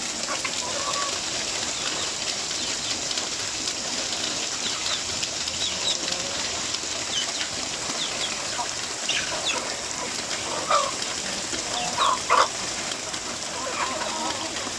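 Zampen native chickens cluck and call faintly now and then amid a steady outdoor hiss, with occasional wing flaps and a couple of louder squawks near the end, under quiet talk.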